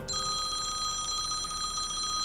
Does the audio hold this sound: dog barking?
no